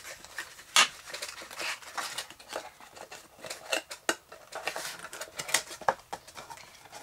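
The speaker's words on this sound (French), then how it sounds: "on va vérifier que eh bien, le couvercle va bien sur notre boîte" A lid being fitted onto a handmade box gives a series of light, scattered taps and scrapes, with the clearest clicks near the start and end and no speech.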